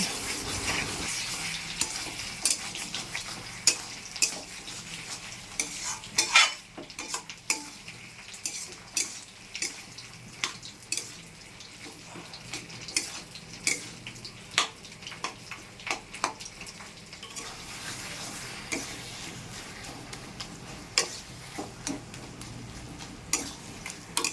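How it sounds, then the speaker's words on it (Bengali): Taro leaves (kochu shak) with prawns cook in a pan over low heat, a steady soft sizzle broken by repeated clicking scrapes of a spatula stirring, close and unhurried with no voices. "অল্প জালে কচু শাকটা সময় নিয়ে রান্না করব।"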